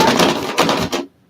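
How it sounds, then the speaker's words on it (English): A plastic tote is set down indoors, giving a short cluster of clattering knocks and scrapes about a second long, close and fairly loud, then quiet. "putting a tote down here, and that's what the noises you're hearing."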